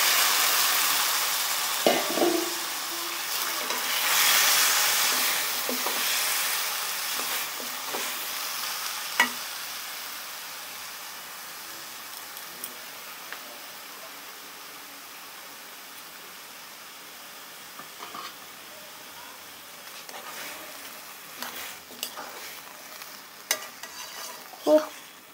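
Vegetables stirred and fried in a pan with a little oil, a continuous sizzle broken by repeated scraping strokes and utensil knocks, close and fairly loud at first, then settling lower.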